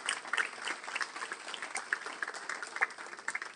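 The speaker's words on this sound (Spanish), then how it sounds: "Y eso merece un fuerte, pero fuerte aplauso al Rey de Reyes" Congregation applauding in a church during a sermon, a steady wash of many hands clapping at moderate loudness throughout, with no voices above it.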